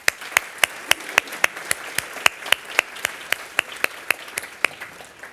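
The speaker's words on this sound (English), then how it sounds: "let's give another round of applause for our honorees" Sparse applause from an audience at a ceremony honoring recipients at an immigrant legal services event: about twenty separate, evenly spaced sharp claps, as if from a few people, fairly close and without talk over them.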